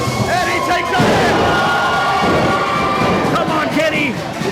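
Wrestling arena crowd roars and cheers for Kenny Calypso in a loud, dense, continuous wall of noise, with shouts rising out of it.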